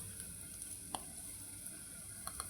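Spice powders (turmeric, Kashmiri chilli, coriander and garam masala) roast in oil for an egg curry, giving a faint, steady low sizzle with a few small ticks and no talk.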